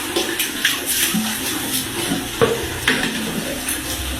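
A bathroom tap is left running during cleaning, giving a steady close hiss and splash of water with small clinks and knocks scattered through it, and no voices.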